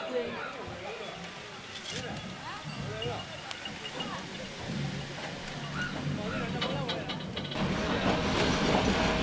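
Sugarcane wagons roll along a railway in Burma, giving a steady rumbling clatter of wheels on track that grows louder toward the end, with voices talking over it.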